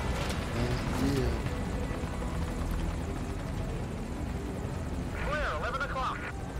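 A helicopter in Metal Gear Solid V: Ground Zeroes gives off a loud, continuous rotor roar that stays close throughout. Voices talk over it in bursts.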